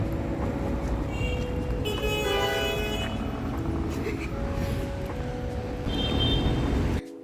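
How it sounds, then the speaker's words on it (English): Car horns honk in busy Naples traffic, with a longer tooting burst and then another short honk over a constant roar of road noise and passing vehicles. "Italians love to honk"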